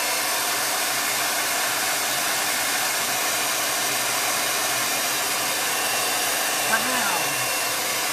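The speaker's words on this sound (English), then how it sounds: "I'm just going to blow dry that a little bit so I can flip it over" A hair dryer blows steadily on a T-shirt freshly decorated with chalk paint, a constant close whooshing roar that runs unbroken for several seconds.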